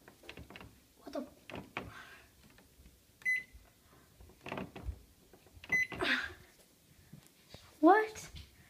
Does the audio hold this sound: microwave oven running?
yes